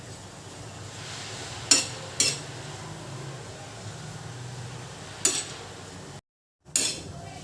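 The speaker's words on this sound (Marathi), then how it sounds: "असे दोन ते तीन मिनटं आपल्याला या मिरच्या खालवर करून घ्यायच्या आहेत" A metal spatula clinks and taps against a hot griddle several times while turning green chillies, over a faint, steady background hiss, with a brief dropout near the end.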